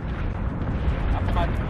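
Incoming missiles in the Battlestar Galactica Deadlock space battle game land as deep rumbling booms, a dense continuous blast of explosions with a player's voice talking over it.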